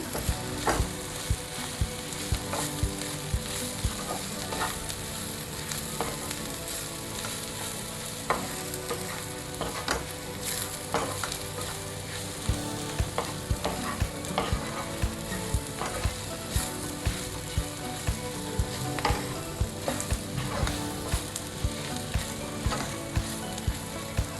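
Roasted lentil powder is stirred into an ivy gourd and coconut fry, with a steady sizzle under frequent sharp scrapes and taps of a spoon against the pan at a regular stirring rhythm, with no talking.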